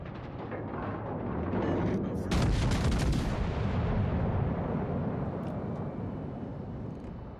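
USN Texas fires its warship guns in a video game battle: one heavy, deep boom bursts out and rolls into a long, fading rumble, with no voices over it.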